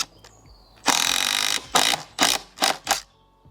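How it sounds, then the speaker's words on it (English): A power drill drives a wood screw, whirring in one long burst, then in four short pulses, close by and loud, with a few small clicks before it starts. "Drill it down so it starts, and you can let go"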